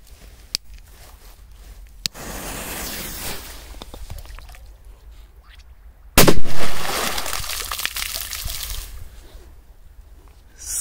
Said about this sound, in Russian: Давайте теперь вот такой супер бенджер забабахаем.